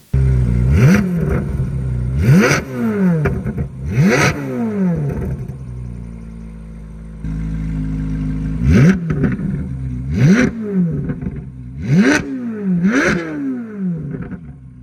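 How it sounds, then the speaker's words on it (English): A Corvette C8 Z06 with an aftermarket exhaust revved repeatedly, sharp throttle blips rising and falling in close, loud bursts, a pause at steady idle, then another run of quick revs. "that sounds very much like a Soul exhaust"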